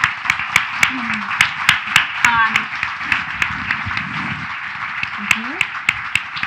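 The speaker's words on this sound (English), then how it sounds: "please join me in giving our speakers a round of applause" Audience applause for the speakers at a mental health policy panel event, a few distinct claps standing out over a steady crowd murmur, with a person speaking briefly over it.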